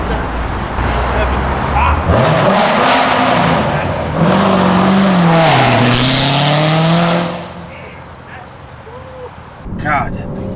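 A BMW C7 with a B58 engine runs with a choppy, lumpy idle and then revs, the engine note rising and falling loudly up close before settling, with someone talking over it.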